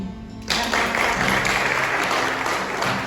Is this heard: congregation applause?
yes